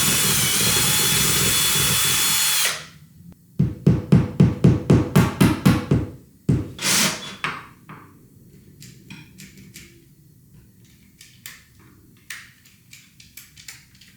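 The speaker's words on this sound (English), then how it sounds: "Time to get it drilling." A cordless drill whirs loudly for a few seconds during an apartment refresh, then stops and gives way to a run of sharp rhythmic bursts and scattered clicks and knocks, with no talk.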